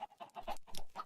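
Minecraft chickens clucking in a series of short, bright, evenly spaced calls, close and fairly clear, with no talking over them.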